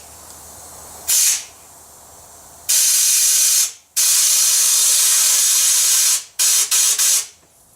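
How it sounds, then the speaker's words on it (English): A blow gun blasts compressed air through the siphon hose of a Harbor Freight blast cabinet in several loud hissing bursts, one short, two long and sustained, then a few quick pulses, over quiet background. "I'll push some air down through the siphon hose."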